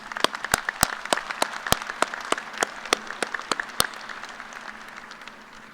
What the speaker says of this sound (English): Please join me again in a round of applause for these individuals.